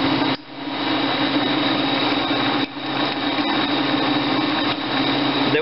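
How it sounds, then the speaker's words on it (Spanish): A drill boring into wood with a 1 3/8 inch bit, running as a steady, loud high-pitched whine with brief dips in load, close by and alone without talk. "La vamos a perforar con una broca de 1 y 3 octavos."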